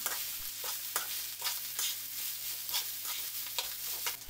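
Fried rice ingredients stirred and tossed in a hot pan, a steady sizzle broken by rhythmic scraping strokes of the utensil roughly every half second, close and clear.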